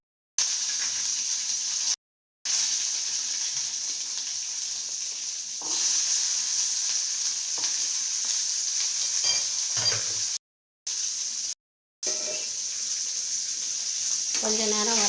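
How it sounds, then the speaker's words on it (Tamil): Small onions and cumin seeds fry in a pan, a steady sizzle running for several seconds, cut by brief gaps, with some stirring and a louder scrape near the end. "சின்ன வெங்காயம் போட்டு இதை ஃப்ரை பண்ணி"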